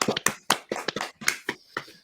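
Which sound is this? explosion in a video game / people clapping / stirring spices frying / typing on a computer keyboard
people clapping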